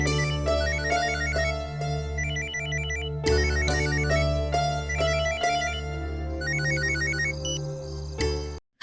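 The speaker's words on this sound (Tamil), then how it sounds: "ஆசிரமத்துல இருந்து கால் வருது." A phone rings with an incoming call in a Tamil TV serial scene, a repeating electronic ringtone melody with steady bursts, loud and close, playing alone for several seconds before cutting off.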